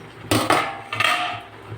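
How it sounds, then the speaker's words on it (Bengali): A metal plate used as a lid is lifted off a wok while cooking spicy-sweet jaggery mango pickle, giving a couple of short, close metallic clanks and scrapes. "আমি কড়াই থেকে থালাটা এবার নামালাম"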